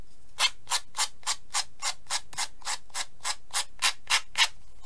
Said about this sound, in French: ce que je fais après, moi, je prends une lime comme ceci